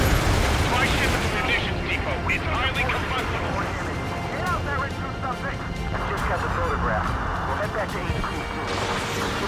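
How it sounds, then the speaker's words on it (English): Gunfire and combat noise in Ace Combat 7: Skies Unknown during an air mission, a steady, dense wash of shots and explosions running throughout, with radio-style voices talking over it. "they're firing at each other"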